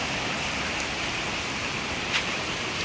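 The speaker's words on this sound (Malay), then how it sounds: "ini suasana yang hujan di kawasan Bukit Bukau" Steady rain falls across the Bukit Bukau area near Kuala Mu in Malaysia, a constant even hiss of moderate loudness with no voices.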